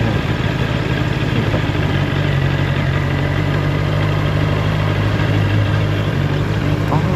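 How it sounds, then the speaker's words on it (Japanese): A motorbike engine idles and runs steadily, close by, as it enters the grounds of a temple tucked into a quiet residential neighbourhood in Khun Yuam, Mae Hong Son, northern Thailand; the low hum continues throughout. "なるほどね、これバイク入っていく。"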